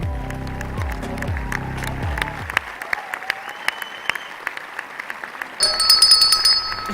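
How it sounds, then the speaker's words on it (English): Applause sound effect played on an afternoon café talk show, a burst of clapping over bright musical tones that fades, then returns louder with ringing bell-like tones near the end. "I like the applause that Vinny's using now better than anything else we've had before."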